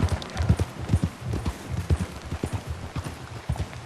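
Horse hooves clip-clop in a steady, even walking rhythm in the Red Dead Redemption 2 video game, close and fairly loud, with no talking.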